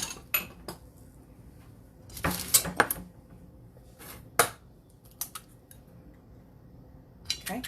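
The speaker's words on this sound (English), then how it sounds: "let's put in an egg" Egg cracked into cornbread batter in a home kitchen, a few sharp taps and clinks of bowl and utensils scattered through a quiet background, close and moderately loud.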